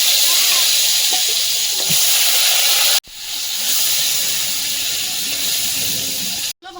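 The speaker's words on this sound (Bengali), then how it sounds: "বেগুনগুলো ভেজে নেব।" Eggplant slices rubbed with turmeric and salt sizzle steadily in hot oil, a continuous close-up hiss with a brief break partway through and occasional faint background voices.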